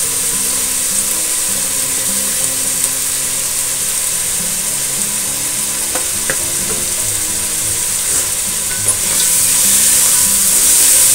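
Carrots and onion with salt frying in a pan for veg fried rice give a steady, close sizzle and crackle, with occasional clinks and stirring scrapes. No one speaks.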